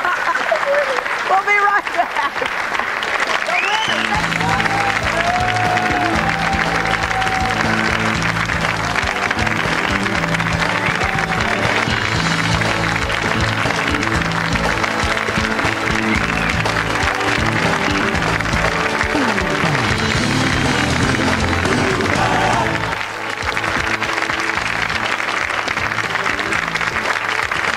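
Studio audience applause on a daytime talk show, a loud, steady wash of clapping and cheering that runs nearly the whole time with background music under it, a brief spoken line from the host near the start.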